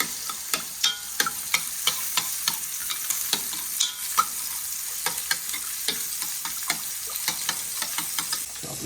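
Tomato paste is stirred into a browning boneless beef chuck stew in a hot pan: a spoon scrapes in quick, regular strokes over a constant frying sizzle, close and clear for several seconds with no speech.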